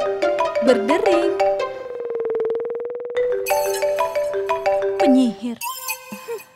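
A phone ringtone plays in a continuous melodic run, loud and close, with a brief sustained buzzing tone partway through before the melody resumes.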